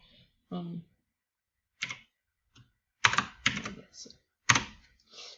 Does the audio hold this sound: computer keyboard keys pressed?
yes